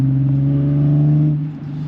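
Nissan 370Z with a VQ37 V6 idling and burbling from the exhaust at the rear, a steady low throaty drone that loosens and sputters slightly toward the end, heard alone without talk.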